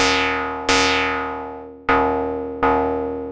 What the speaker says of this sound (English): Then we got the 2 oscillator FM plus noise.